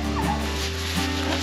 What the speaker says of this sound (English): what noise does a dog make? Woof, woof.